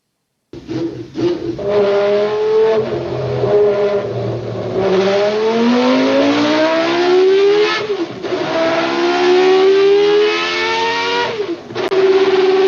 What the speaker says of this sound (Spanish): lo arrancamos de nuevo. Motor de Renault Fórmula 1, años 80